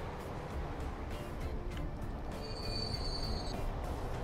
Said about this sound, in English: Here comes the next fuel train